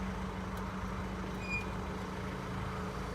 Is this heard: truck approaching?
yes